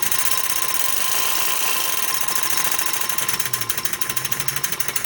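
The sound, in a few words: paint spray gun agitator cup running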